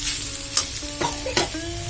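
Bottle gourd peel and potato frying in a pan, a soft steady sizzle with a few sharp scraping stirs of a spatula, close up and with no voices.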